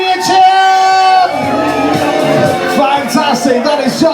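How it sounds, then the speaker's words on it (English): Party guests at a 40th birthday disco loudly cheer, whoop and shout for the birthday woman, a dense burst of many voices up close that settles into scattered yells. "Let's give the lady a cheer!"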